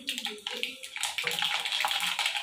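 Mustard seeds sizzle and crackle in hot sesame oil while a lemon pickle is being prepared, giving a soft, continuous frying hiss with scattered pops.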